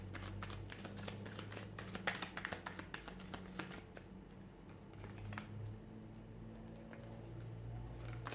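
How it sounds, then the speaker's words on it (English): Tarot cards are shuffled by hand in a steady run of soft riffling ticks and slaps, close and fairly quiet over a low background hum. "give the cards a shuffle"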